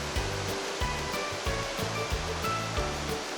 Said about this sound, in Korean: 가늘었지만 시원한 물을 뿜어내는 폭포였습니다